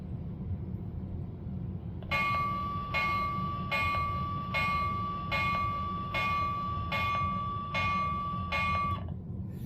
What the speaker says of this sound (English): See what the bell's like here on the Wabash.